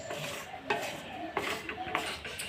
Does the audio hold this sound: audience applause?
no